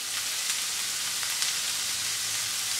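Prawns frying in a pan with a little salt: a steady, bright sizzle throughout, with faint crackles and pops, close and continuous, no voices.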